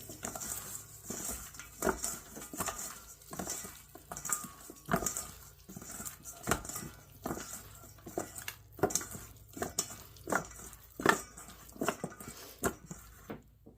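Chicken wings tossed by hand with cayenne and pepper seasoning in a bowl, a run of close, soft patting and slapping strokes with occasional light clinks against the bowl, steady and fairly quiet with no talk.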